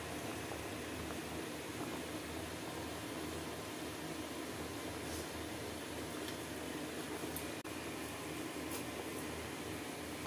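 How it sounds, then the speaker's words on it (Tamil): Thanni salna gravy boils in a pot: a steady, soft bubbling hiss that continues evenly without pause, close by and fairly quiet. "பாருங்க கொதிக்குது"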